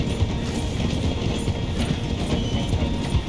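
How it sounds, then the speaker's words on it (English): A steam train in Red Dead Redemption 2 rolls slowly through a station, a steady dense rumble of wheels and carriages with faint rhythmic clatter, close and continuous throughout. "The train is slowing down to go through the station."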